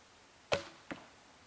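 A traditional bow shooting a light, underspined arrow during instinctive archery: a sharp, close release snap followed a moment later by a softer thwack of the arrow striking, then quiet.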